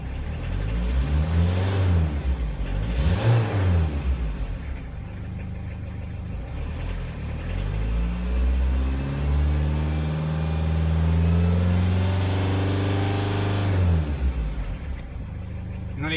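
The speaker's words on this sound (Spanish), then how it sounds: "No le quiero dar mucho gas porque en frío no es bueno los motores o no es aconsejable darle mucho gas." A cold car engine idles and is revved in several rising and falling surges, loud and close, settling back to a steady idle between pushes.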